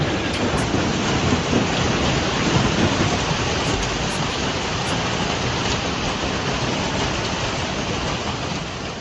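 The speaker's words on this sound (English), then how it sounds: "The rains did not stop" Heavy downpour pounds steadily during a storm in Sichuan or Chongqing, China, a dense, loud wash of rain. Low thunder rumbles through it and nothing else breaks the roar.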